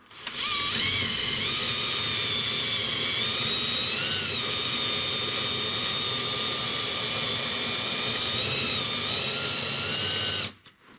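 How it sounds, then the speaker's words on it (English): A power drill spinning a deburring tool on a metal bolt whirs at a steady high pitch, close and loud, with a faint scraping grind underneath, running for about ten seconds before cutting off. "let's try it again on this bolt. Again, just spin your drill slowly."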